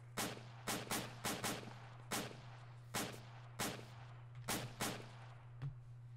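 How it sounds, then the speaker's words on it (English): Irregular volley of sharp, fairly distant gunshots in a tactical shooter game, about a dozen cracks spread over several seconds above a steady low hum, with no speech. "Can I shoot them, Roost?"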